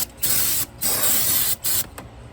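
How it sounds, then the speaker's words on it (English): Three bursts of hissing spray wash coolant off the engine of a 2008 Hyundai Santa Fe during a water pump and timing belt job. Each burst is loud and close, separated by short pauses, with a brief fourth spurt at the end. "I'm just going to take and kind of spray a lot of this coolant and stuff off of"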